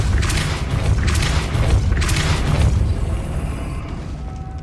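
Depulso spell cast in the video game Hogwarts Legacy, a series of heavy booming thuds and bursts in quick succession that trail off into a low rumble, with no talk.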